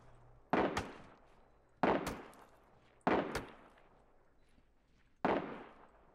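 Gunfire in the video game Ring of Elysium, four sharp loud shots or short bursts spaced about a second or two apart, each with a decaying tail, and no talking.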